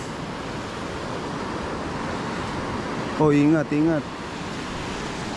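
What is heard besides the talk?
ocean waves breaking on the shore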